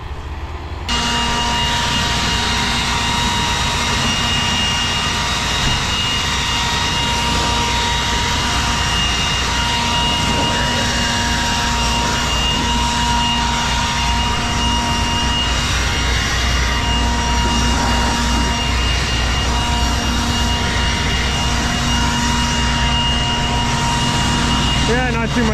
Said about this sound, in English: We got our trusty Milwaukee blower, blow the combines off